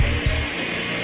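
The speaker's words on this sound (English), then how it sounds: "why in the world would he destroy 2 locks with a drill" A power drill grinds into a door lock, a steady loud whirring drone with a brief low burst near the start, running alone without pause.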